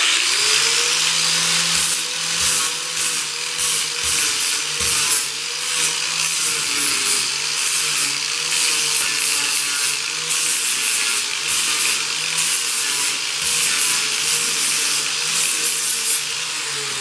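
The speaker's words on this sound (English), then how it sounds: "we'll go ahead and knock this stuff down with the flapper disc real quick" A flap disc on a power tool grinds down a wooden lid jig, a continuous abrasive rubbing whine with rhythmic surges of pressure, close up and steady for the whole stretch.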